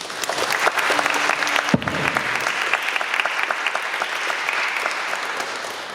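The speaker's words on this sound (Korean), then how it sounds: "우리 다시 한번 큰 박수 부탁드립니다." A church congregation at a Sunday testimony service applauds, a dense continuous round of clapping from many hands with a sharp thump near the start, staying strong and even throughout.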